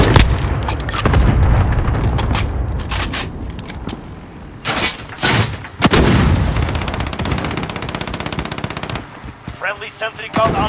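Cluster strike in Call of Duty Modern Warfare team deathmatch: a loud barrage of rapid gunfire and booming blasts in bursts, pausing briefly around the middle before resuming, with game voice callouts mixed in.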